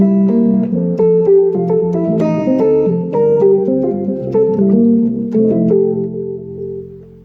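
A keyboard's worship voice setting plays sustained chords and melodic notes with an echo harmony effect, the layered tones ringing and trailing off into a held final chord, loud and alone with no talking.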